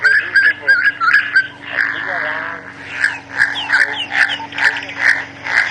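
A pigeon calls during a sunrise safari drive, repeating clear whistling notes in a steady series, fairly close and prominent, with a low engine hum beneath.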